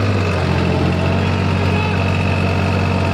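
A New Holland 3600 tractor engine runs loud and close at a steady 2000 RPM, its deep continuous diesel throb unbroken throughout.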